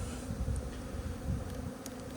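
Honey bees buzz steadily around an opened beehive with stacked mediums and a queen excluder during a rainy spring inspection, a dense low continuous hum close by with no talking.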